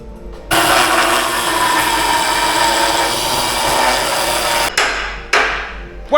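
A hammer whacks a Land Rover subframe up close: loud, sustained metallic banging that breaks off near the end, followed by a few separate hard strikes.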